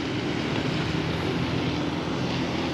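A jet ski passes near a kayak on a lake, its engine producing a steady, loud broadband drone that holds evenly throughout without fading.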